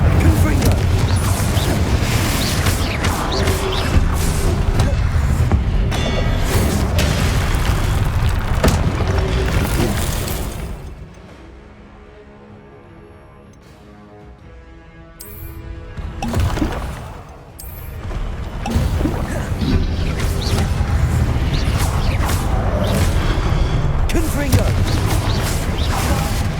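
Spell blasts from Incendio and Confringo in the video game Hogwarts Legacy, loud booming bursts over dense game music and effects, dropping into a quieter lull midway before the heavy blasts resume.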